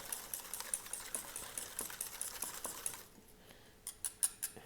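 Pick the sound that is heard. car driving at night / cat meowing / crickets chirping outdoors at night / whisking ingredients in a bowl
whisking ingredients in a bowl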